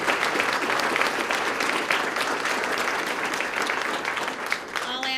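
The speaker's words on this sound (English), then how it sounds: "So let's give him a round of applause." An audience at a police swearing-in ceremony gives sustained applause, a dense, even clatter of many hands that holds steady before a voice begins near the end.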